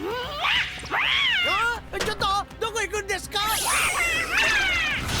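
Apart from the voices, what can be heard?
cats meowing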